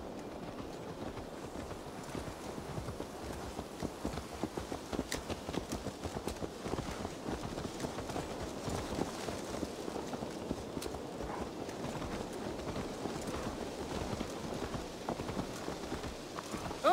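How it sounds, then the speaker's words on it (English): Horse hooves clip-clop at a steady trot in the video game Assassin's Creed Valhalla. Regular, fairly close hoofbeats sound over a soft wind-like ambience throughout. "Let's return the horse."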